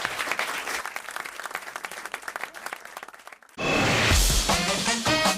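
A studio audience on a French radio talk show breaks into applause, dense clapping that eases off briefly before a jingle or music takes over loudly.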